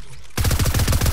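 Rapid automatic gunfire from a weapon in the video game Fortnite, a loud, fast burst of evenly spaced shots starting abruptly after a brief quiet moment.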